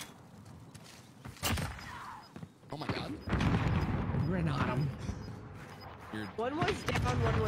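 Sniper gunfire in a video game: several sharp, loud shots crack out at irregular intervals over rumbling in-game battle noise, while players talk throughout.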